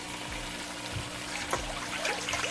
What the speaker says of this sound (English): And then I'm gonna just go ahead and add my water